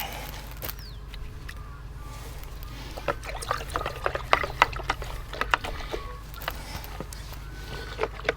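Powder is stirred into a bucket of water, giving faint, irregular sloshing and light plastic clicks and knocks that pick up partway through, close by and fairly quiet.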